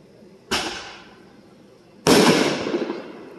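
Two Fourth of July fireworks set off by neighbors explode a short way off, each a sharp boom trailing into crackling decay, the second louder and longer with a lingering fizz.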